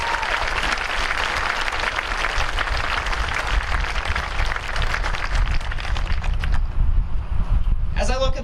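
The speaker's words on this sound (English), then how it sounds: "let us take a moment to give a round of applause to the graduating seniors on this field tonight" Sustained applause from a large outdoor crowd of families on a high school football field at a 2019 graduation ceremony, a steady dense wash of clapping that fades near the end as a voice comes in.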